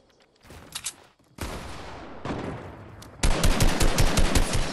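Rapid sniper and automatic gunfire in a video game shooter, bursts building from scattered shots to a loud sustained volley of repeated cracks, close and alone without talk.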